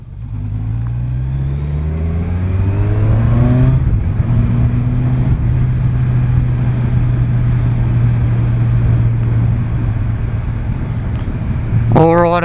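A 2019 Kawasaki Ninja 1000 motorcycle engine rises through the revs with a climbing note, then settles into a loud steady drone at speed, close to the rider, with wind rush and a brief rising rev near the end.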